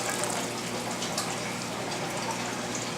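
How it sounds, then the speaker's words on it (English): Water pours steadily into an aquarium holding pearl weed, a continuous broadband splashing rush at close range. "Let's give it some of that water."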